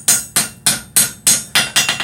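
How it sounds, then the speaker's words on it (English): Rapid, regular light hammer blows on steel during forging of a cross pein hammer, each strike loud, close and bright, falling roughly every quarter second. "I'm just going to take my time with some nice light hammer tapping."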